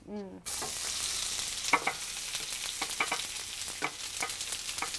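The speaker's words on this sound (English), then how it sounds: "So let's put these onions in." Onions sizzle and crackle as they fry in very hot olive oil in a pan. A steady hiss carries scattered pops and stirring clicks, close and moderately loud, with no talk.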